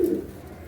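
Pigeons coo in a short, soft low burst that fades after a moment, leaving quiet background.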